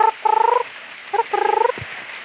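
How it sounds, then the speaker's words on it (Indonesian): Turkeys calling at a nature park, loud close rhythmic gobbling bursts in two runs of rapid repeated notes separated by a brief pause, heard alone. "Binatang ayam kalkun."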